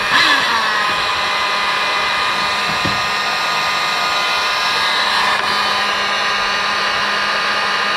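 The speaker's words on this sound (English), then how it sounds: "So I've got my heat gun here." A heat gun blows hot air onto electrical connectors while a truck's manual engine fan override switch is installed. The loud, steady, close fan whoosh with a high motor whine runs unbroken from start to finish.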